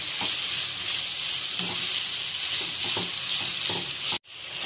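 Mutton keema fries in a pan with a loud, steady hiss and sizzle, soft stirring thumps beneath it, before the sound cuts off sharply near the end and then resumes more quietly.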